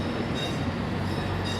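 Gajah Wong passenger train running steadily, a continuous rolling rumble with faint rail rattle, close and even throughout with no voices.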